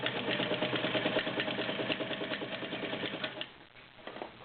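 Kenmore Model 50 heavy duty 1.2 amp sewing machine stitches zigzag in a fast, even mechanical clatter, close and alone, slowing and trailing off near the end.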